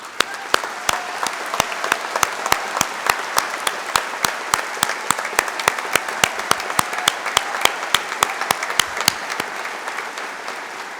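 Sustained applause from a large crowd at a graduation convocation ceremony, dense steady clapping for the whole stretch with scattered sharp claps standing out, fairly loud and close.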